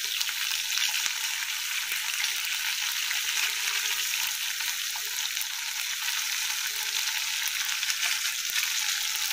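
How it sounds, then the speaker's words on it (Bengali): Fish fries in hot oil in a wok, giving a loud, continuous sizzling hiss that holds steady and close with no talking over it. "আর মাছ ভাজতেছি"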